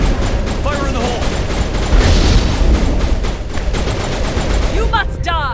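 Mass Effect combat with a grenade blast and sustained gunfire, dense rapid shots and booms filling the scene continuously, with shouted voices over the din.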